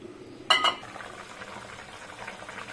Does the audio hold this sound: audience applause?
no